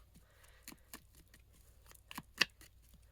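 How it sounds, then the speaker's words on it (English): Tarot cards being shuffled during a pick-a-pile reading, heard as a few soft, quiet riffling and slapping bursts scattered over a near-silent background, with one sharper snap toward the end. "Let me just give it a couple more shuffles"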